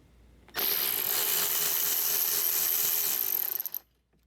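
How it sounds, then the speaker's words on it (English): A Torx T45 socket on a power tool spins out a front bumper bolt on a 2008 Mercedes GL320, a single steady high-pitched whir lasting about three seconds, close and loud, that stutters briefly before stopping. "I'm gonna grab a torque socket so we can remove this bolt up here."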